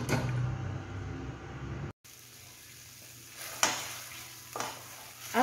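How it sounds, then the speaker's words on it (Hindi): Onions cooking in oil in a pan for spinach corn curry, a loud close sizzle at first that cuts off abruptly, then a quieter simmering hiss with a few clanks, like a lid or spoon against the pan. "प्याज तेल डालते हैं और जब तक प्याज का कच्चापन ना चला जाए इसको हमको पकाना है"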